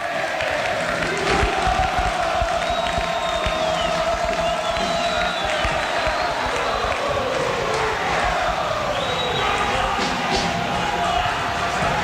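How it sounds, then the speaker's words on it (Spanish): Stadium crowd after a Paraguayan league football match between Cerro Porteño and Trinidense, a dense, steady roar of shouting and chanting with scattered whistles, heard loud and continuous throughout. "ahora comienza el griterío"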